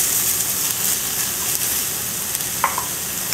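Diced vegetables and onions sauté in a hot pan for a garden vegetable frittata, giving a steady close sizzle with a few faint stirring clicks and no talk.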